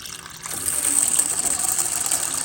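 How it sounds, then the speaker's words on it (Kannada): Water splashes and gushes over chana dal being washed, a steady close pour that swells after a quiet start and keeps running to the end. "ನೀರು ಹಾಕ್ಕೊಂಡು ಇವಾಗ ಕಡಲೆಬೇಳೆನ ಕ್ಲೀನಾಗಿ ತೊಳೆದಿದ್ದಾಯಿತು"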